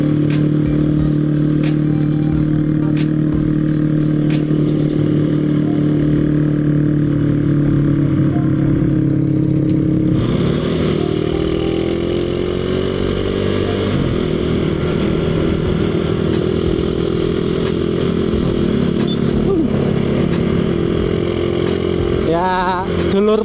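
A Honda Revo motorcycle carrying riders along a road, its mid-pitched engine droning steadily and shifting pitch as it speeds up, with wind and rattling clatter, loud and close, while a rider talks over it.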